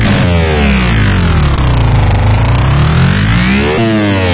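A loud, growling synthesized bass made in Massive sweeps and warbles continuously, its pitch dipping and rising like a monstrous voice, alone with no talking.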